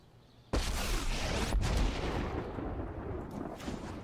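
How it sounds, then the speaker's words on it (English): A double explosion sound effect fires in the Magic: The Gathering digital card game. A sudden loud blast is followed about a second later by a second boom, and both trail into a long, rumbling decay. "Double explosion."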